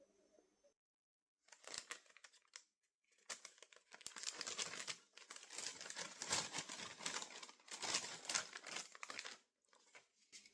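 A stapled paper advent calendar package being cut and opened, close crinkling, rustling and tearing paper in irregular bursts separated by short silences.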